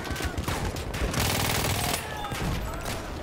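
Bursts of rapid automatic fire from a Villar Perosa submachine gun in Battlefield 1 on Xbox One, loud and close, with a long sustained stream in the middle and shorter volleys around it.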